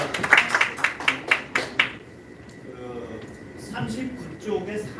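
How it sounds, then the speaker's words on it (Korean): Audience applause at a Korean lecture or forum, a run of about six sharp clapping bursts over the first two seconds, then fading into quiet room tone with faint voices. "박수로 보내드립니다."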